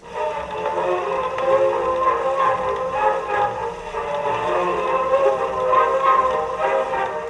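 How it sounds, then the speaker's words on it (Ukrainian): An early 20th-century gramophone record plays muffled, narrow-sounding music with a constant hiss and rumble underneath, at a moderate, even level. "Так звуки відтворювались на патефонах початку ХХ століття."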